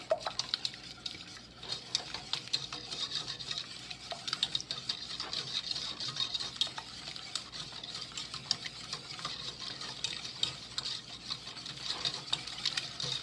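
Two room-temperature eggs are whisked into fudgy cranberry pecan brownie batter in a bowl, a continuous rapid scraping and sloshing rhythm that runs steadily and close throughout, with no talk.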